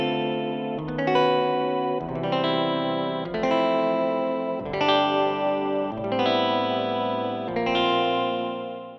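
An electric piano virtual instrument plays a slow sequence of sustained chords with a bell-like, slightly gritty Wurlitzer-style tone, clear and moderately loud, with each chord decaying before the next.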